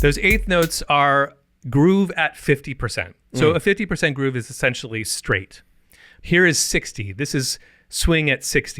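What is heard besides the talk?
None of the usual background noises is heard.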